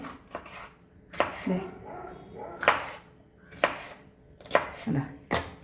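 Knife chopping capsicum for a Kerala-style chilli chicken, sharp cutting strikes landing on a board in an irregular rhythm, about seven distinct chops over several seconds, close and fairly loud, with no talking.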